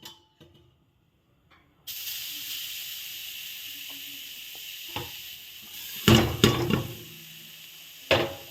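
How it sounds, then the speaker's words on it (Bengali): Grated coconut hits a hot kadai with a sudden sizzling hiss that carries on steadily, broken by a few louder bursts of frying and stirring scrapes. "এখন আমি এর মধ্যে নারকেল দিয়ে দেব।"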